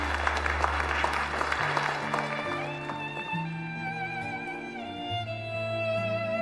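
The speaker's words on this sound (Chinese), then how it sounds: "让我们用热烈的掌声有请文氏集团董事长文向天先生和白迪迪小姐闪亮登场" Guests at an engagement ceremony break into applause, a steady patter of clapping blended with swelling background music.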